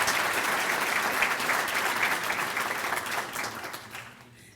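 An evening celebration audience applauds the speakers, a dense, sustained wash of many hands clapping that gradually fades out.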